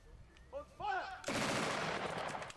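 Gunfire from German-uniformed reenactment troops storming Bolsover Castle at a 2002 event: a brief shouted voice, then a loud, sustained burst of rapid overlapping shots rolling on for over a second.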